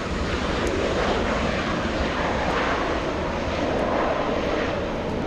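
A Boeing 737 airliner roars at Los Angeles International Airport, a loud, broad jet rumble that holds steady throughout, heard from outdoors with no talk.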